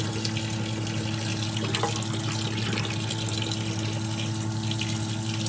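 Water flows backwards through a Rheem RETEX-13 electric tankless water heater that has no check valve, producing a constant close rushing hiss with a low steady hum underneath and no pauses.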